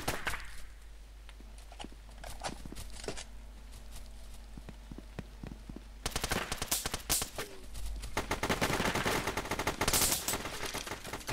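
Gunfire in the online shooter Brain-Out, scattered single shots at first, then dense rapid bursts of automatic fire growing louder and busier in the second half.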